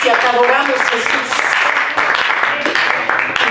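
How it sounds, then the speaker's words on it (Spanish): Church congregation applauding loudly during a bilingual Spanish and English worship service, a dense continuous clatter of many hands mixed with cheering voices and music throughout. "Den un fuerte aplauso a su presencia."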